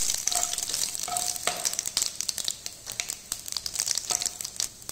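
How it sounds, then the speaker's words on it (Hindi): Cumin seeds and asafoetida fry in hot oil in a pan for a village-style egg curry, with a busy crackling sizzle, sharp pops and occasional scraping stirs, close and unbroken by talk. "इसमें डाल देंगे जीरा, थोड़ी सी हींग, अच्छे से पकने देंगे इसे"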